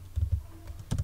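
Fast, close clicking of computer keyboard keys while coding in Prolog and Python, a quick run of taps and a short burst near the end, with no talking.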